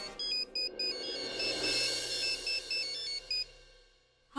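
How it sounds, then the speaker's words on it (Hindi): Phone ringtone sounding during an unanswered call, a repeating electronic melody in short pulsed bursts that play continuously and then stop abruptly. "बुलबुल तब से उसे फोन कर रहा हूँ, फोन ही नहीं उठा रही"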